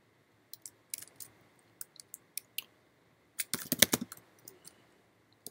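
Light typing on a computer keyboard, scattered single keystrokes followed by a quicker burst of clicks midway, quiet and close with no talking.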